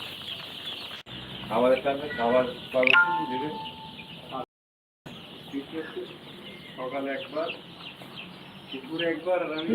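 Tiger breed chickens cluck and call on a poultry farm, repeated clucks and short crows at moderate distance, mixed with someone talking over them and a brief dropout midway.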